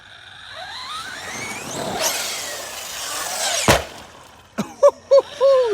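Tekno RC car fitted with Powerhobby 3.8 belted sand paddle tires and a body broken into pieces, launching up a sandy slope: a rising electric motor whine, then a loud gritty rush and a sharp snap, followed by brief squealing tones.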